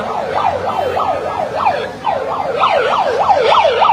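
An emergency siren yelps in quick repeated up-down sweeps, loud and continuous, over a low crowd rumble at Hazrat Shahjalal International Airport, Bangladesh.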